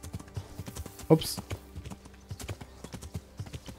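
Steady clip-clop of horse hooves at a brisk rhythm in the video game Kingdom Come: Deliverance, with a short grunt-like vocal sound and a brief spoken exclamation partway through.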